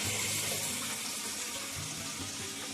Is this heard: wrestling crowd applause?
no